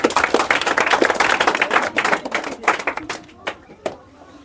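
Students in a tenth-grade history class in Bihar clap loudly together in a dense, rapid burst that thins into scattered claps toward the end.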